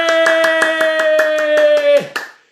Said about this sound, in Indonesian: Ayo, tepuk tangan dulu dong. Tepuk tangan dulu